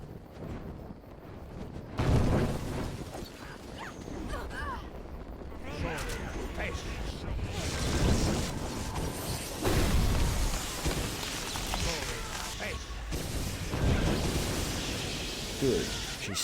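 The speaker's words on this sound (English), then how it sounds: "Ice storm him up, please." Ice Storm spell effects in Neverwinter Nights 2, with heavy booming crashes and a roaring blast over ongoing battle noise, loud and near, while voices speak over the combat.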